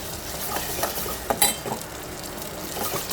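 A turmeric root and ginger paste sizzles and crackles steadily in hot tempering oil for rasam, with a few brief scraping stirs and clinks partway through; no one speaks.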